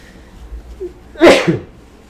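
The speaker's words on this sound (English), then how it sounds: "So I have to sneeze, everyone." A single loud sneeze bursts out after a quiet moment, a sharp breathy blast followed by a brief trailing sound.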